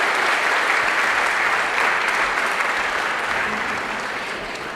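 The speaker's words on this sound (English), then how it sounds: "Big round of applause for our soloists" Loud, full applause from a concert audience for choir soloists, dense and continuous throughout, gradually easing off toward the close.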